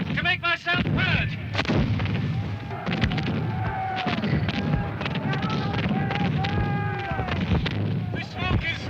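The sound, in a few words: cannon fire, cannonades on battlefield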